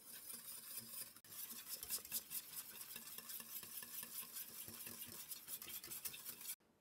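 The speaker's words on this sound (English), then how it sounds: "Okay, the filling is boiling." Vinegar pie filling from an 1859 recipe bubbling in a pot on the stove, with a dense, steady bubbling hiss and occasional stirring scrapes, fairly quiet and close, with no talking.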